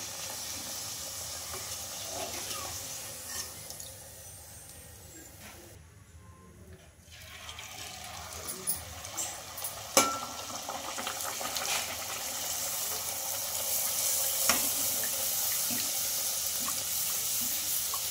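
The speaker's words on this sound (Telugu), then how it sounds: "ఇలా పైన వేడి వేడి ఆయిల్ వేస్తే బాగా పొంగుతాయండి పూరీలు అయితే" Ragi flour puris deep-frying in a pan of hot oil as more hot oil is spooned over them, giving a steady close sizzling hiss with occasional sharper crackles and pops throughout.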